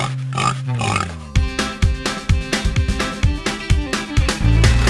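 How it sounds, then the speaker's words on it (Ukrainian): A pig grunts and oinks in a rapid series of short, close calls over a steady musical background. "це свинка"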